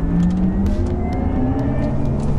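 A Porsche Taycan Turbo electric car accelerates hard, its motor whine climbing steadily in pitch over a continuous rush of road and wind noise, close and loud.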